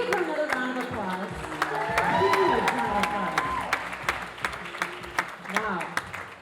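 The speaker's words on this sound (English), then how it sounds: "Can we give her another round of applause?" An audience applauds a speaker at a Rising Tide Society community talk in Phoenix, the steady clapping swelling in the middle and then thinning into scattered claps, with voices and cheers mixed in.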